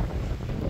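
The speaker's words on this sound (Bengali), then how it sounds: "বাতাস দিচ্ছে জোরে জোরে।" Strong wind gusts outdoors beside a house, with a loud, steady, low rumbling roar that buffets the microphone without a break for a brief moment.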